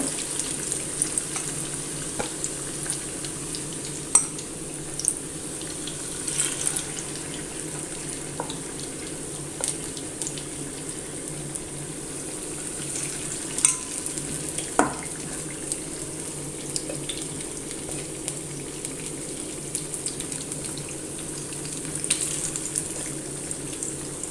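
Chicken pakoda pieces frying in hot oil, a steady close sizzle and bubbling for over twenty seconds, with occasional soft clinks and stirring knocks and no one speaking.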